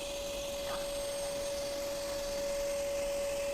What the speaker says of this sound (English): So I'll vacuum first, and then we'll run the brush again.